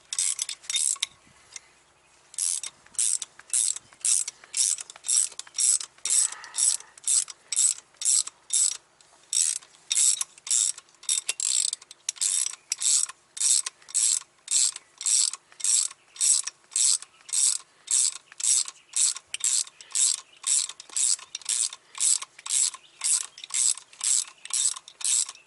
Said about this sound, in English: And just ratchet this bad boy down